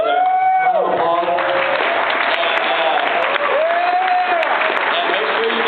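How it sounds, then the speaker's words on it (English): Sustained crowd applause at the opening of a gaming convention presentation, loud and continuous clapping that fills the whole stretch, with a voice speaking over it. "Round of applause."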